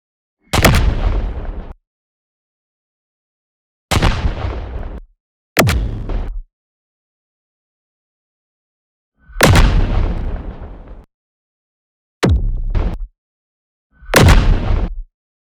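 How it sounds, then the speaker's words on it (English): Six separate designed explosion sound effects boom one after another with silent gaps between them; each is a loud, sharp burst that decays over about a second. "So main explosion happens here"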